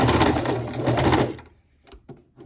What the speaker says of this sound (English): I'm not even gonna backstitch. I'm just gonna do a quick sew